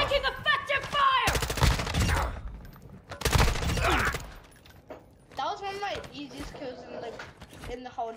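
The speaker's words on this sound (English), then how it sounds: "Taking effective fire." Bursts of automatic gunfire rattle in Call of Duty DMZ zombies mode, two dense loud volleys followed by scattered shots, with players talking over and between the firing.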